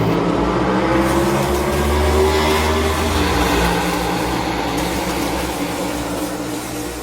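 Stock race cars from a racing video game roar as they accelerate to green at Pocono Raceway, a loud, sustained engine drone with rising pitch that holds steady for several seconds.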